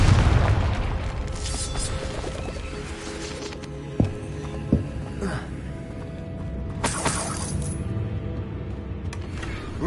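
Confringo fire spell in Hogwarts Legacy: a booming blast at the start, then sharper pops and crackles at about four and five seconds, with a bright burst near seven seconds over a constant rumbling game soundscape.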